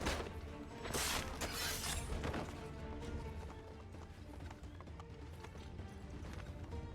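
Steady clip-clop of horse hooves running in the game Assassin's Creed 3, dense and continuous, with a few brighter crashing bursts early on, at a faint overall level.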